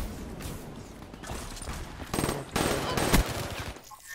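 The KN rifle fires in a video game, producing a quick series of rapid gunfire bursts that grow louder toward the middle, with game effects underneath.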